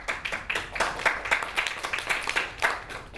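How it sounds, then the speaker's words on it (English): Audience applause at a talk on Ayurveda and traditional medicine, a steady patter of many hands clapping close by, lasting a few seconds with no voices over it. "thank you for the applause"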